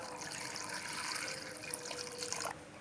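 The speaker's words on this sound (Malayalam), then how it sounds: "ആവശ്യത്തിനുള്ള വെള്ളം വേകാനുള്ളത് ഒഴിച്ചു കൊടുക്കാം" Water poured into a pan of papaya curry with cooked dal, a faint, steady splashing trickle that stops abruptly near the end.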